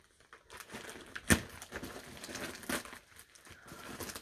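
Plastic parcel packaging crinkles and rustles as it is cut open, with a sharp snip or tear near the start and scattered soft crackles throughout, close and fairly quiet.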